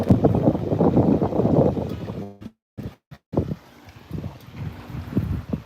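Wind gusts through a home garden, a steady rushing roar that rises and falls with the breeze, broken briefly by a short dropout midway.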